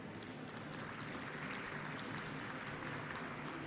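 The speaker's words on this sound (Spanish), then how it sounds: "Vamos a recibirlo con un fuerte aplauso" A conference audience applauds to welcome a speaker, a continuous, fairly faint and distant clatter of many hands with a room hum beneath.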